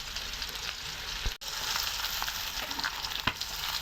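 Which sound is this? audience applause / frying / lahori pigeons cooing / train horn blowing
frying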